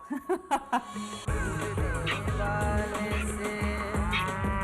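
A cow moos on a street in India, a long, loud, close lowing call after a few short thumping knocks at the start.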